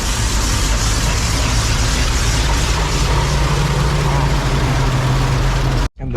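A Jeep engine idling close by, a loud, steady low drone with a broad rough hiss over it that runs unchanged until it cuts off abruptly near the end.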